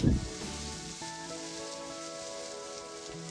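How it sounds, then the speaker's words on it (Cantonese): Slices of pork belly sizzle in a pan as their fat renders, giving a steady crackling hiss with a sharp burst at the start, close and fairly quiet, with no voices. "等佢煎一煎香嗰啲五花腩嘅油， 唔使反住噶，等佢慢慢煎香佢。"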